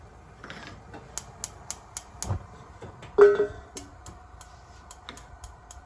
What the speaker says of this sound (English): sometimes my stove makes a little clicking sound